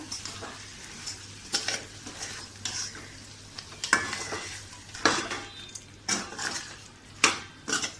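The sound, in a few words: chicken being stir-fried in a pan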